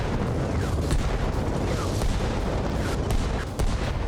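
Large mortar explosions in Arma Reforger, heavy continuous rumbling booms with sharp impacts scattered through a dense roar, loud and sustained throughout.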